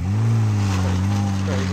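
Rally cars racing past spectators at a rally near Bury St Edmunds, heard as a loud, steady engine drone with a strong low hum that holds throughout, close to the listener.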